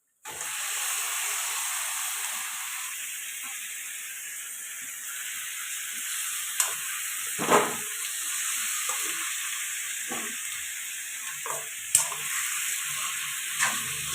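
Washed chicken pieces frying in a pan with ginger garlic paste for chicken biryani: a steady, bright sizzle and hiss that runs throughout, with a few sharper pops and spatters breaking through now and then.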